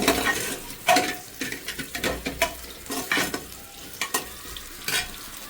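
Soybean chunks for a vegetarian veg biryani fry and sizzle in a pan under quick, irregular stirring, with a spoon scraping and clinking against the metal. The sound is close and moderately loud, with no talking.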